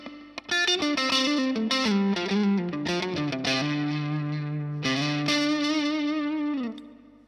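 Electric guitar run through a TC Electronic Dark Matter distortion pedal gives a thick, saturated, overdriven tone, with a burst of fast picked notes and then long sustained chords ringing out, loud and alone.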